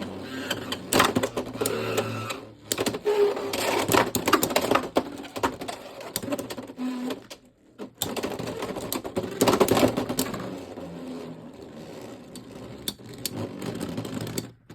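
Hasbro Beyblade X spinning tops launched into a stadium, giving a busy stream of rapid clicking, rattling and clashing hits with a brief lull in the middle.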